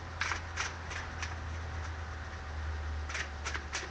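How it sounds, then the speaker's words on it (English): Repeated bursts of a deck of cards being shuffled during a card trick, brief riffling rushes clustered at the start and end over a low steady hum, close and fairly quiet, no talking. "Shuffle up the deck."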